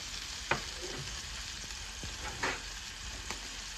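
A Walmart wagyu ribeye steak sears in a hot pan with a steady, dense sizzle throughout, broken by a few sharper pops and crackles, and no talking.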